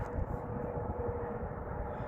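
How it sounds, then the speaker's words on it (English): A tour helicopter passes over a desert hillside near Lake Mead, a steady low rumbling drone that holds constant and fairly faint from a distance, heard alone without talking. "Another helicopter."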